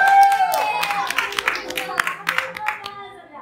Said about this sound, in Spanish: recibamos con un fuerte aplauso a Andrea Pauli